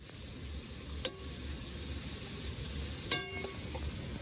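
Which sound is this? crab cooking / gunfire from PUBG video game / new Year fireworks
crab cooking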